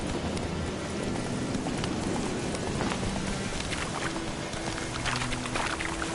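A horse galloping in The Witcher 3: Wild Hunt, hooves clattering in a fast, continuous rhythm under a steady wash of ambient game noise, close and fairly loud.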